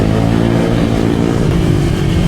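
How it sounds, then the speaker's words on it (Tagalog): A Honda Click 180cc scooter engine drones loudly and steadily while the bike is ridden, with a dense, close hum and wind rush that never lets up. "Siguro mag-overheat na tong motor ko."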